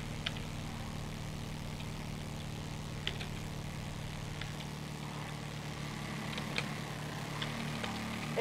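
A new motorbike in the game Zombie Adictos RP gives off a steady low engine drone, fairly quiet, with a few faint ticks and clicks scattered over it.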